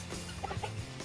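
Chickens on a homestead clucking softly at close range, a few short clucks over a faint low background hum.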